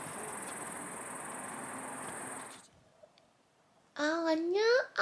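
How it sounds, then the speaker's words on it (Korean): Crickets chirp outdoors as a steady, dense high-pitched trill for a few seconds, then fade out, with a voice speaking briefly near the end. "귀뚜라미 소린가?"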